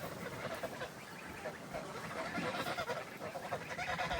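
Farmyard geese honk as they are let down into a garden, scattered calls rising over a noisy outdoor background, fairly faint and irregular, with some voice in the mix.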